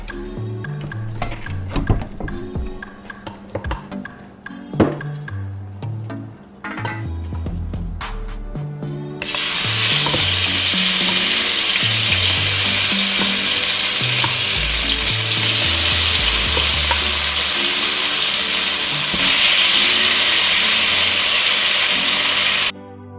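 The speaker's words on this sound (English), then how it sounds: "Alright, so we're going to go ahead and add the meat." Oxtail meat drops into a hot dashi pot and sizzles loudly and continuously after a stretch of background music, a steady bright frying hiss that lasts to the end.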